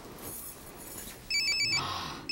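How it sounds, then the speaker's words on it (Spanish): A mobile phone left in a living room rings with a repeating electronic chirping tone that starts partway through, over a quiet room background. "La señorita mía dejó su celular en la sala y está sonando."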